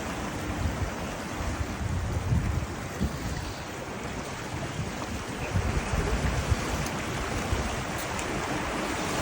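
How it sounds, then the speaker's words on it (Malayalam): Water swirls and churns like a whirlpool at a waterway setup in Kiel, a broad, continuous rushing roar with wind buffeting the microphone and no speech. "അതൊരു ചുഴി മാതിരി പല സെറ്റപ്പുകളിൽ വെള്ളം കറക്കിയും"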